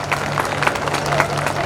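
Applause from an audience at a community programme at a dharmshala, steady dense clapping filling the whole moment with a low electrical hum beneath it.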